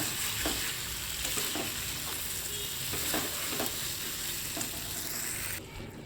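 Fried taro and potato being stirred into frying masala in a pan, a continuous loud sizzle with repeated scraping strokes of a spatula, no voices.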